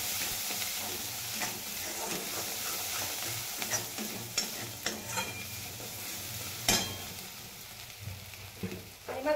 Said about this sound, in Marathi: हलवून घेऊ